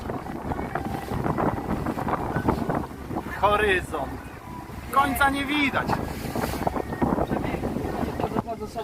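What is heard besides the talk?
boat sailing on a lake in wind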